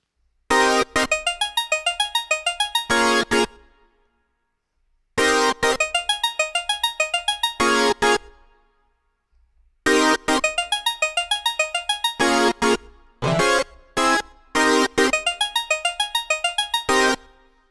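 Synth stab and pluck patches from a song, built in Logic Pro and MainStage and played together on a keyboard. Loud, bright rhythmic bursts of plucks and stabs repeat in phrases separated by short silences.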